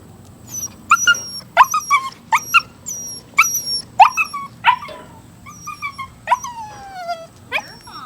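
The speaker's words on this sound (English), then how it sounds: "Oh, you get barks?" A German Shepherd barks in a string of sharp, close barks and yips, loud and uneven in rhythm, with short pauses between bursts and no talk.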